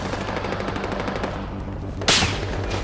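Rapid automatic gunfire from enemies in the video game Battlefield Hardline, steady bursts of shots with a sharper, louder crack near the end.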